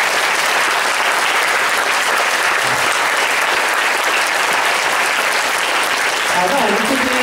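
Loud, warm applause from a school gathering for the New Taipei girls' high school tug-of-war team, a thick, continuous roar of many hands, with a brief voice surfacing near the end.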